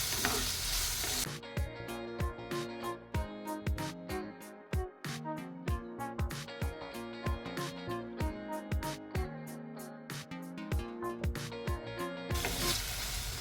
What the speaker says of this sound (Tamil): தக்காளியும் ரொம்ப குழையக்கூடாது லைட்டாக இந்த மாதிரி கலந்து விட்டுக்கலாம்